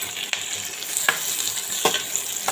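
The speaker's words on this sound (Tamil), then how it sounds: "இப்போ நம்ம ரெடியாக வச்சுருக்கிற கேப்சிகம் ஆனியனை சேர்த்துக்கலாம். ஒரு 2 மினிட்ஸ் வதக்குனா போதும்." Capsicum and onion sauté in a hot pan with a steady close sizzle, broken by a few sharp scrapes and taps of stirring.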